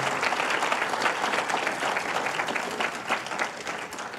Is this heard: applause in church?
yes